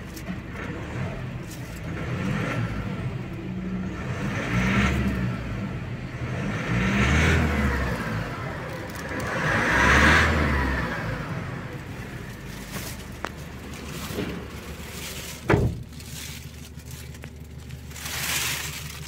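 A 2022 Isuzu D-Max Single Cab engine revs in several rising and falling swells, close and fairly loud, with a sharp knock partway through.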